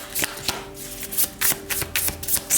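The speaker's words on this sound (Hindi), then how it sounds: "तो चलिए शफल कर लेते हैं सिंह राशि लियो साइन के लिए।" Tarot cards shuffled by hand for a Leo zodiac reading, a series of crisp riffling bursts in an uneven rhythm, close up with no talking.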